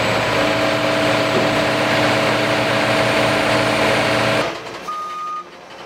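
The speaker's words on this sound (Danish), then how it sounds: "En lastbil med store vægtlodder bliver nu bakket i position." A truck carrying large weights backs into position at a church renovation site, a steady heavy engine rumble with a repeating electronic reversing beep, both loud and close, cutting off abruptly near the end.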